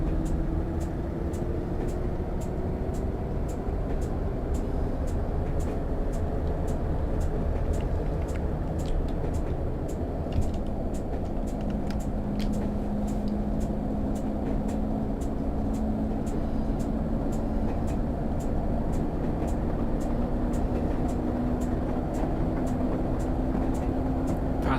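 In the Train Simulator game, a Class 24 diesel locomotive hauling coal wagons rumbles steadily, with an engine drone that shifts pitch and repeated rhythmic clicks of wheels over rail joints throughout.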